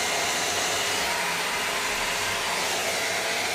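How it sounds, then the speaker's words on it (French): A Paris Hilton rotating hot air brush from Lidl blows with a loud, steady whooshing hiss and motor whine, close up and continuous with no voices. "c'est quand même un sèche-cheveux malgré tout"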